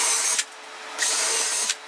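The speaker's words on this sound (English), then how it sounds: "I drill more holes" A power drill bores holes into wooden slats on a small plywood board for a garden table top, two loud sustained whirring bursts with a brief pause between, no voices.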